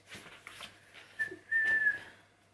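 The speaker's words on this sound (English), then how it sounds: "sorry, I'm just learning how to whistle" One person whistles a short, thin tone, first tentatively and then a longer sustained note, close to the microphone in a quiet room.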